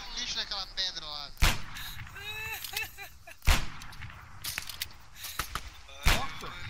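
Gunfire in the video game Arma 3 rings out as three loud, sharp shots spaced a couple of seconds apart, heard among excited speech from players.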